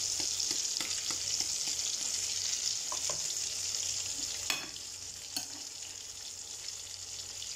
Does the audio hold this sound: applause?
no